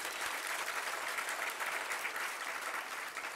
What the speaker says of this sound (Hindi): जबलपुर वाले ताली बजा करके मौन हो जाए